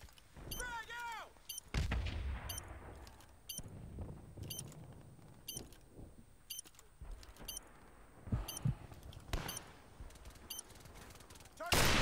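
Gunfire and a grenade blast in Call of Duty Modern Warfare Remastered search-and-destroy match: scattered rifle shots and a heavy thud, with distant bursts and faint game sounds throughout, under brief voices.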